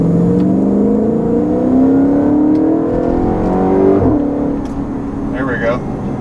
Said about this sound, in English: this thing really sounds like a supercar when you downshift with it